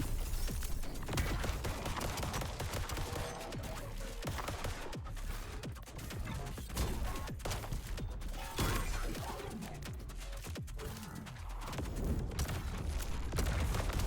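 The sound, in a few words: missile strike explosions in video game Void Breaker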